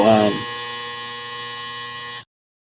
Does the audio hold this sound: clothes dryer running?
yes